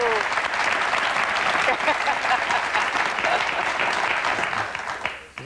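Studio audience applause on a 1998 television talk show, a dense, steady wash of clapping that stays loud and even throughout before trailing off at the very end.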